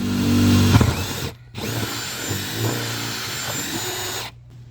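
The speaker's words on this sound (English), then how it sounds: "Now I'm going to drill a bigger hole to send the wire through." Power drill boring a larger hole through vinyl siding on a shed wall for an exterior light's wire, a loud steady motor whine that cuts out briefly and resumes, alone with no talk.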